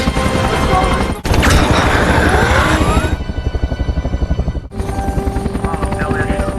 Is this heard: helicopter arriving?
yes